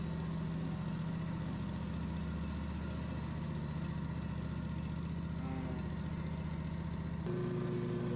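A SCAG V-Ride II 36-inch stand-on mower with a 19 HP Kawasaki FX engine runs steadily with a continuous droning hum, close and unbroken, shifting slightly in pitch near the end.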